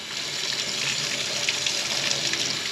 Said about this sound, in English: But I'll run water on it and make it a little easier for me.